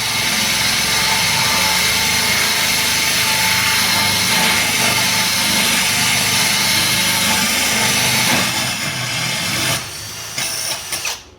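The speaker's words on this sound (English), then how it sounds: "So we're drilling with one hand, watering with one hand." A loud, continuous whirring power tool grinding away for several seconds, then easing off and stopping near the end.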